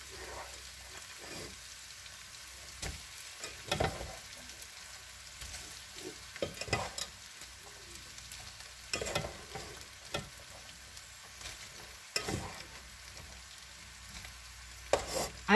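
Italian rice with cubed ham, bacon, peas and eggs being stirred in a frying pan, a continuous soft sizzle broken by irregular scraping and stirring knocks, close and steady, no voices.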